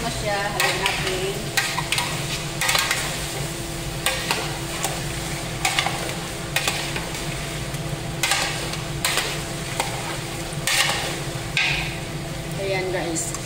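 Chicken kapsa frying in a pan is stirred repeatedly, with rhythmic scraping and knocks of the spoon over a constant loud sizzle.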